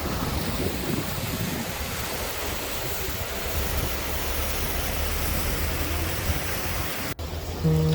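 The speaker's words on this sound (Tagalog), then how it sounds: "Mahangin." Wind blows outdoors on a cold evening in Gunma, Japan, as a continuous loud rush of buffeting noise against the microphone that cuts off abruptly near the end.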